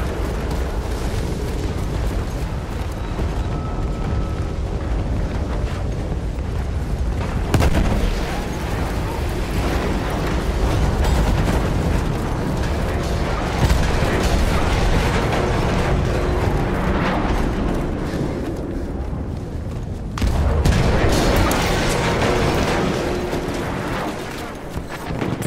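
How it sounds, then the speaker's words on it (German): Grenade explosion in the video game Battlefield 1, a sudden heavy blast followed by more booms and rumbling battle noise, with muffled voices underneath. "Ich werfe eine Granate."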